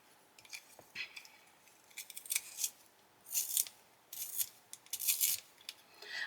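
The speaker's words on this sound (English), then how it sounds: "let me sharpen my, where's my little pencil sharpener?" A small, cheap handheld pencil sharpener grinding a pencil: a close series of short, gritty scraping bursts in an irregular rhythm, with no voices.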